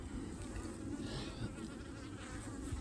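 Honey bees buzzing at a hive made from a split, a faint, dense, continuous hum of many wings close by, with no voices.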